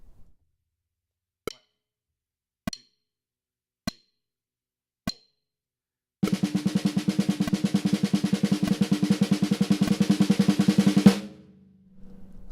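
A drum struck with a few single, evenly spaced strokes, then a fast, dense roll of 32nd-note triplets that runs for about five seconds before stopping abruptly, close and clear with no talking.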